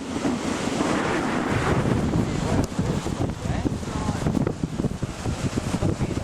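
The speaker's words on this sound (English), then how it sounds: "This is the Southern Ocean." Southern Ocean surf off Kangaroo Island, with waves breaking and strong wind buffeting the microphone, a loud, continuous roar that churns steadily throughout.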